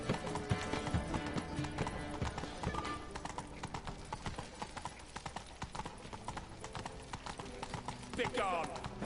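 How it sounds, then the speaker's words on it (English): Horse hooves clip-clop steadily as a rider moves through a town in the Witcher 3 video game, busy game music and ambience layered around the hoofbeats. "I'm riding my horse here, lady"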